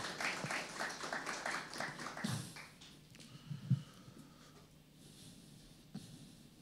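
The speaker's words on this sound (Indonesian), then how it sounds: "Kita tepuk tangan buat Tuhan Yesus yang luar biasa" A church congregation claps for Jesus during an Ascension Day service: rhythmic group clapping at moderate distance for the first two seconds, fading into room noise with a few scattered taps afterward.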